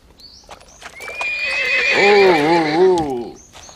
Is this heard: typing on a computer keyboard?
no